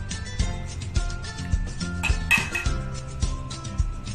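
Cut fruit pieces are set down onto plates during a toddler's fruit-cutting play, making a series of light clinks and clatters of dishes at an irregular pace, close by and fairly quiet.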